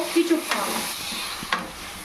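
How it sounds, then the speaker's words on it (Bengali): Spatula stirring a hog plum chutney mixture in hot oil in a pan, soft sizzling with a few distinct scraping strokes, close and fairly loud. "এবার একটু নেড়ে চেড়ে নেব"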